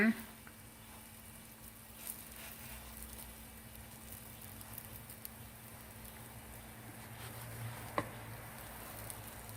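Soft, steady sizzling of food frying in a pan, with faint clicks and small taps now and then.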